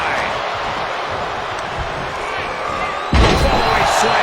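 A wrestler crashes onto the ring mat from a fallaway slam at a Royal Rumble match, one heavy thud near 3.1 s cutting through a steady roar of arena crowd noise, with commentators talking over it.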